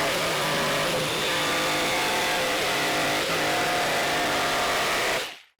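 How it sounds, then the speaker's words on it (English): A jigsaw cutting wood to rough out a bowl, a steady loud buzzing whine held close for about five seconds before cutting off abruptly. "So with the jigsaw, I want to cut on this side"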